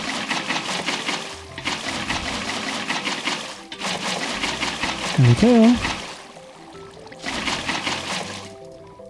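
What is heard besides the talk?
water flowing into pool in Minecraft video game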